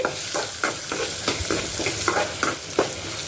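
Dried turkey berries fry in hot oil for a spicy Karaikudi-style vathal kuzhambu, giving a steady close crackling sizzle broken by regular scraping stirs of a ladle, with no voices.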